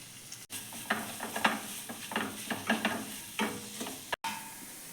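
Curry leaves, shallots, garlic and onion fry in a pan for a green gram thoran, a close steady sizzle broken by a series of scraping stirs with a spoon.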